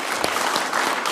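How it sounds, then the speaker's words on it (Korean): Steady applause from a crowd, dense clapping that holds at an even level throughout. "여러분 한번 큰 박수 한번 부탁드리겠습니다"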